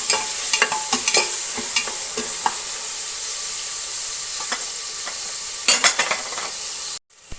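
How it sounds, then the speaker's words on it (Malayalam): Chopped tomatoes and green chillies frying in a pan on a steady loud sizzle. A spoon stirs with scattered scraping clicks throughout, then the sound cuts out briefly near the end. "ഇനി നമ്മൾ നല്ലപോലെ ഒന്ന് ഇളക്കി കൊടുക്കണം"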